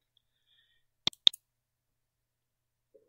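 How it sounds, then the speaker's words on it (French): Two sharp computer mouse clicks in quick succession to open a document, close and clear in an otherwise quiet room, with a faint trailing tick afterward. "il suffit de cliquer dessus"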